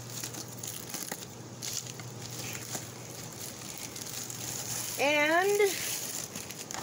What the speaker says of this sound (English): And we will cut this open.